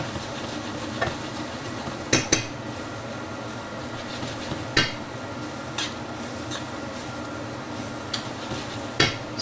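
Cubes of butternut squash and sweet potato frying in a pan, a steady close sizzle broken by occasional sharp scrapes and clacks of a utensil stirring against the pan.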